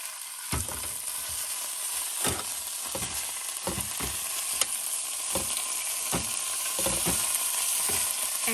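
Beef mince fries in a pan at an off-grid campsite, a constant bright sizzle punctuated by periodic scrapes and knocks of a stirring utensil.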